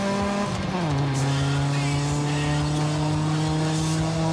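A 2010 car in Forza Horizon 5 holds a loud, steady engine drone that drops pitch as it shifts early on, with a faint tire squeal over the sustained roar.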